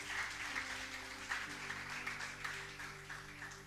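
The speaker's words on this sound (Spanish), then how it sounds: "dale un aplauso a Él" A church congregation applauds during a Spanish-language sermon, steady clapping filling the space with sustained musical tones from instruments underneath throughout.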